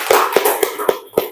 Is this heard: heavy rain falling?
no